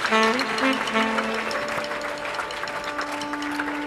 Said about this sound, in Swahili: Let's clap our hands and thank God for what he's done in heaven's fire.